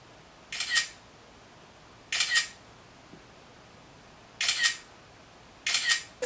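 Four crisp camera shutter clicks from a selfie being snapped, evenly spaced about two seconds apart, close and clear in a quiet room.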